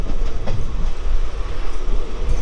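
Train running on rails between Murshidabad and Malda: a steady loud rumble with rhythmic clickety-clack of wheels over rail joints and faint squeals, heard continuously from on board with no talk.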